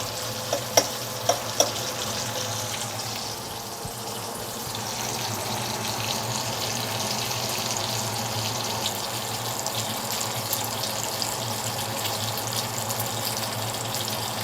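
Bacon sizzles and crackles steadily in a pan, browning toward halfway crispy, with a dense, even frying hiss close by and a few light clicks near the start, with no talking.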